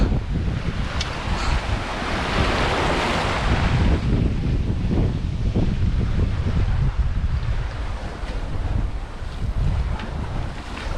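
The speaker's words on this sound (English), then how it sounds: "Bit of wind." Wind and breaking waves at sea aboard a sailboat nearing Peniche Harbour, a steady roar of wind buffeting the microphone with surges of surf washing and swelling throughout.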